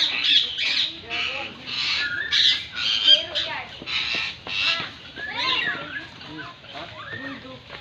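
Indian ringneck parakeet squawking repeatedly in harsh, rhythmic bursts at close range on a farm in Barili, Cebu, Philippines, with some voices mixed in.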